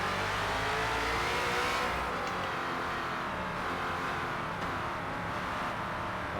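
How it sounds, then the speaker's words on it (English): A #17 Ford Falcon FG X race car launching at the Nordschleife in Forza Motorsport, its engine roaring loud and steady close up as it holds revs and pulls away, with no pause in the sound. "just get the rev limiter right at the red line, and then roll into the throttle"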